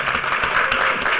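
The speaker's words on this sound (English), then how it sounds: "I really have to ask for a special round of applause for Mitch and the awesome" A hacker conference panel audience breaks into applause, a brief burst of dense clapping heard at close range.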